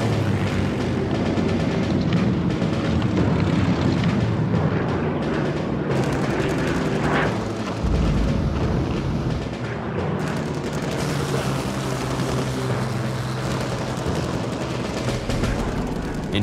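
A WWII air battle over Britain, with Spitfires and Hurricanes diving on German bombers whose gunners answer with 7.9mm machine guns. It comes through as a loud, dense roar of engines and rattling gunfire, with heavy booms rolling through.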